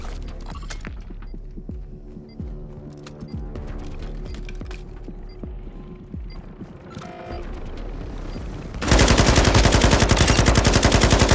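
Gunfire in Call of Duty: Modern Warfare II, with scattered single shots and short bursts over game ambience, then a loud, continuous rapid-fire machine gun stream through the final seconds.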